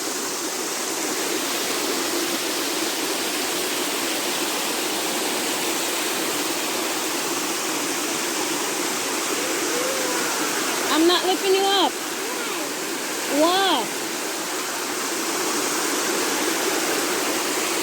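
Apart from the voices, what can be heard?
waterfall in Hanover, Jamaica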